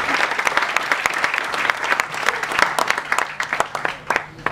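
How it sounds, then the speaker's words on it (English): An audience at a computer science conference talk applauds a volunteer, brisk close clapping from a modest crowd that continues steadily throughout. "round of applause."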